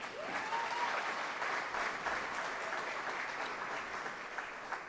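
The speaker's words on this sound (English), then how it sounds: "would you join me in applauding them for their work?" An audience at a Saluki Athletics Hall of Fame awards ceremony breaks into sustained, even applause that fills a large hall, with no voices rising above it.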